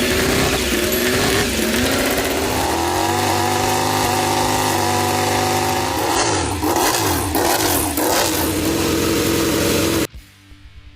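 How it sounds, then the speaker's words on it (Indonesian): Honda 850cc V4 MotoGP engine, loud and close, holding a low rough hum that climbs into a sharp, rising roar with rapid revving before cutting off near the end. "Cuplikan audio video itu dibuka dengan dengung rendah yang kemudian berubah menjadi raungan tajam dari mesin V4 Honda"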